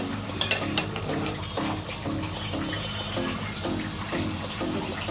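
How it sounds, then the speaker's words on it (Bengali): Bottle gourd is stirred in a pot, giving repeated close scraping and clinking strokes over a wet, bubbling simmer that runs steadily throughout. "লাউটা নেড়ে চেড়ে দিচ্ছি।"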